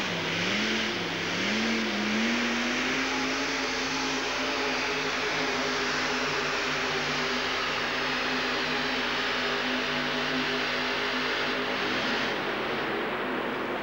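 A pulling vehicle with a few-thousand-horsepower engine revs at the Pontiac Silverdome in 1989: a loud, sustained roar holding one steady pitch with a slight wobble at the start, running continuously for about fourteen seconds with no voices.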